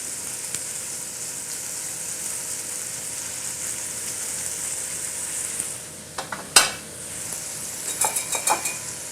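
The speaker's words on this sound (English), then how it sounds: "Now the reason we're going to saute the ham, it's already cooked, but you want to bring it up to temperature" Already-cooked ham sautés in a pan for an omelet, with a steady crackling sizzle throughout and a few sharp utensil clinks against the pan near the end.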